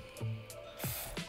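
Water goes into a lime cheesecake sauce made with squeezed lime, a few short, soft splashing and pouring bursts, close and quiet, spaced out over about a second.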